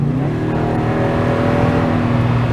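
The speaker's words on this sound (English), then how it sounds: "The exhaust is just right. It's got enough little bark to it" A repaired, previously totaled Toyota runs with a steady exhaust note, a close, continuous engine drone with a slight bark and no voices over it.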